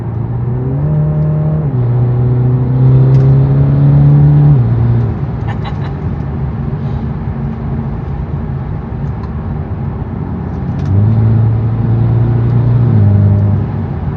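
BMW G20 330e with catless downpipe, catback exhaust and stage 1 tune in sport mode, valves open: a steady, heard-from-inside engine and exhaust drone that rises and falls with revs, loud and continuous.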